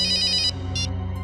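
An electronic telephone ringtone plays in two bursts, a longer trill then a shorter one, over a low steady hum in a police office.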